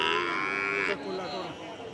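A loud, close cow moo at the Chhatra cattle market in Naogaon district holds steadily for about a second, then trails off into quieter lowing and background murmur.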